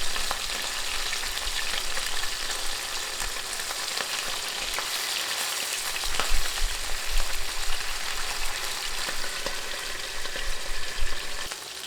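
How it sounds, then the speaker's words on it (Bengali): Pabda fish frying in oil in a pan give a continuous crackling sizzle, close and steady with occasional sharper pops, with no talk. "উল্টে দিয়ে এ পাশও মিনিট খানেক ভেজে নিব"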